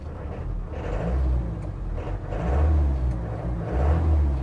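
A 1996 Land Rover Defender 90 diesel engine runs close by, a steady low throbbing clatter that swells and eases slightly in level, with no voices over it.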